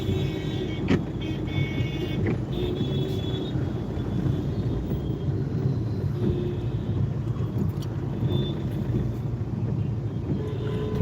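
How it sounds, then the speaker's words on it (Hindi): Steady engine drone and road rumble from inside a car crawling through a traffic jam, with a few faint horn-like tones from surrounding traffic. "थोड़ा ट्रैफिक जाम है,"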